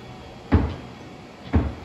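Soft-closing maple cabinet doors on a plywood-core cabinet with a shoe rack and coat hangers close twice, each a muted thud about a second apart, near and alone with no talk.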